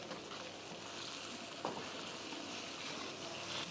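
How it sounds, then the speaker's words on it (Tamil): Dried red chillies, small shallots and plenty of curry leaves sautéing in sesame oil for a spicy country chicken fry, a dense continuous sizzle and crackle up close with an occasional spoon scrape, no voices. "நல்லெண்ணெயில் அந்த வரமிளகாயும் சின்ன வெங்காயமும் நிறைய கருவேப்பிலை போட்டு நல்லா வதங்கிட்டு இருக்கு."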